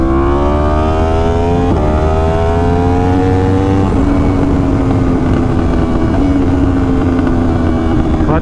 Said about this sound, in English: Clutchless downshifting is like one of the most satisfying things ever.